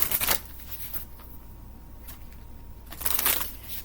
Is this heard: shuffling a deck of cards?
yes